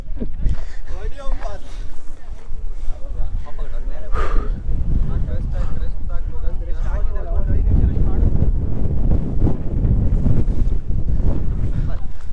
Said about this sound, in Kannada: ಗಾಳಿ ಮಾತ್ರ ಕ್ರೇಜಿ ಗುರು